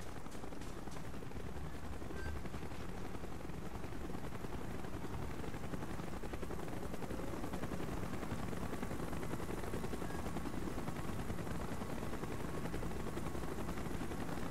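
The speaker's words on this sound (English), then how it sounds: "Chopper's inbound!" Helicopter approaching in Call of Duty: Black Ops, mission Executive Order, a dense continuous rotor roar mixed with gunfire and battle noise that holds at the same loud level throughout.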